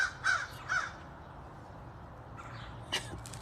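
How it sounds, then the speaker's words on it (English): Crows caw several times outdoors, a few loud harsh calls at the start and more scattered caws later over quiet background noise. "I assume you can hear those crows."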